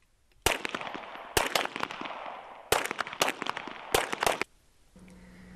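Repeated gunfire at a military range where soldiers qualify on weapons such as the M9 pistol, M249 squad automatic weapon and Mark 19 grenade launcher: sharp cracking shots in irregular clusters and bursts, loud and fairly close, no talk.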